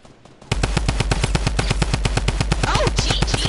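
Rapid automatic gunfire in a video game bursts in suddenly after a quiet moment, then keeps going as a loud, evenly spaced stream of shots until the end.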